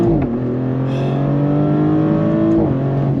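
A 2024 Maserati GranCabrio Trofeo engine accelerates under throttle on twisty roads, its steady drone rising in pitch, loud and close, before a brief dip and recovery.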